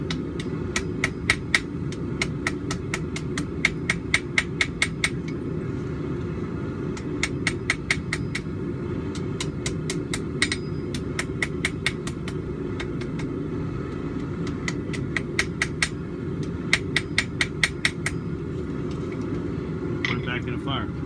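Hammer blows strike a hot back scratcher on an anvil in quick clustered runs, blending its forge welds, ringing sharply over a steady low rumble from the forge.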